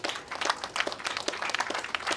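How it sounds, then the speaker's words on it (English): Audience at a topping-off ceremony for a 350-unit housing complex in Newark claps in a steady, dense burst of applause, moderately loud and without talk. "Another big round of applause."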